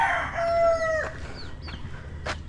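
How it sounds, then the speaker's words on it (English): Roosters crow loudly and close by in an outdoor setting in Dumaguete, Philippines, one long crow followed by short clucks and calls from other birds over a low background rumble. "Got some chickens."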